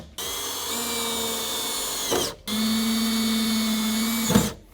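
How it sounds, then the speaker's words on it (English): Power drill boring small pilot holes into the corners of a universal spare tire carrier mount on a Ford F150, two steady whirring runs with a brief pause between, close and loud. "put a little tiny pilot hole on each one of these corners, so then we can come back with a bigger drill bit to actually bore it out"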